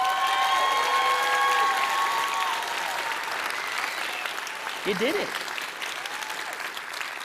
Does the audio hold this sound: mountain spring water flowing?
no